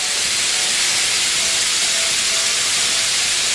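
Onion and garlic cook in olive oil for homemade tomato ketchup, giving a loud, continuous, even hiss of frying with no voices over it.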